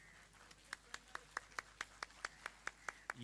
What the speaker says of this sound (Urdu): تالیاں تالیاں زور سے پلیز